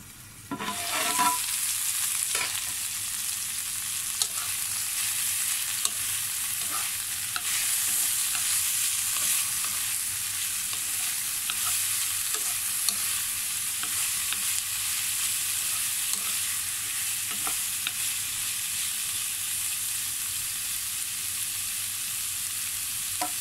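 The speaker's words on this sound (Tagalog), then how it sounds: "Saksan natin." Bitter gourd and tuna sautéing in a hot pan, with a steady loud sizzle and frying crackle and occasional stirring scrapes, running alone throughout.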